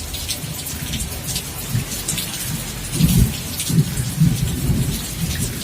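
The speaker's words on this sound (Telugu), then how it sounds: "మా దగ్గర వచ్చేసి వర్షం వస్తుంది" Heavy rain pours down in a steady, dense roar while deep thunder rumbles low and repeatedly, swelling most strongly about halfway through; no voices are heard.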